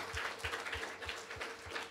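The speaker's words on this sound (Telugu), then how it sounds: "Come on, clap your hands and praise God." A church congregation clapping hands together in a steady rhythmic beat, about three claps per second, with a muffled, distant wash of applause and no voices.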